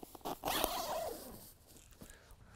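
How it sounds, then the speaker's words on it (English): A zip is pulled open along the end of a padded fishing rod luggage sleeve, a short, close, rasping run that fades out after about a second. "If I just undo the zip here at the end"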